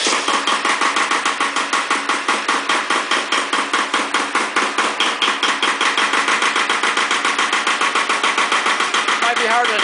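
An Iseki diesel tractor engine with a bad solenoid runs loud and close with a rapid, regular knocking throb, steady idling chatter that never lets up.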